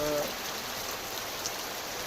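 Heavy rain pours steadily in a Gujarat field after hours of downpour, a dense even hiss of drops striking surfaces and standing water, close and continuous without a break.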